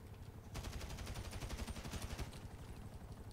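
Rapid bursts of gunfire from GTA V Online, a quick run of sharp repeated shots that rattle for about two seconds at moderate distance before fading back into a quieter background.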